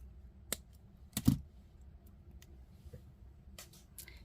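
Scissors snip off material in a quiet room, heard as a few faint, sharp clicks close by, with one stronger cut in the middle.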